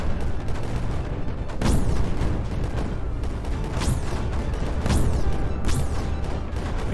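Mortar artillery in the video game Creeper World 4 firing repeatedly, four or five loud booming launches each trailing a descending whistle, spaced about a second apart over a dense rumbling backdrop.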